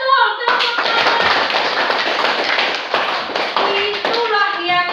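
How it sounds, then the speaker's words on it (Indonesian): Primary schoolchildren clap together in a classroom with loud, dense applause that lasts several seconds. A voice is heard at the start and near the end. "Betul, tepuk tangan"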